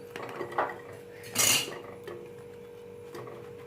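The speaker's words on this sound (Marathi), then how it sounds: "आता आपण ह्याच्यात ह्या भाज्या घालून घेऊ" Vegetables tipped into ghee in a pan for pav bhaji, a sharp clatter and rustle at the middle with a few lighter utensil knocks around it, close and with no talk.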